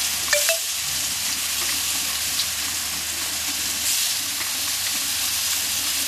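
Rohu fish pieces frying in hot white oil, a dense, steady sizzle and hiss close up, with a couple of brief clinks near the start and small spatters scattered through.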